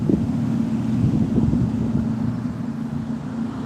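Gusty outdoor wind buffets the microphone in a steady low rumble that swells and eases, with a faint hum underneath and no talking.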